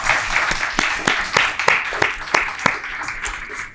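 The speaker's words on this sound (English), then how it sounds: "Can you join me with a round of applause for our excellent panelists?" An audience at a forum panel discussion claps steadily for a few seconds for the panelists, a crowd of individual claps blending into a warm round of applause.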